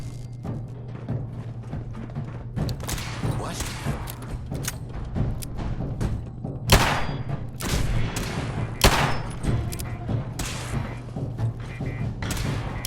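Gunfire in the video game Fallout 4 during a fight with gunners rings out as a string of sharp shots and thuds, some loud and close, over a steady low hum and background game noise.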